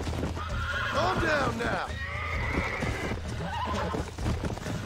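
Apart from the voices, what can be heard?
wild horse neighing, from video game Red Dead Redemption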